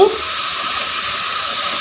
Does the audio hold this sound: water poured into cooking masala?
yes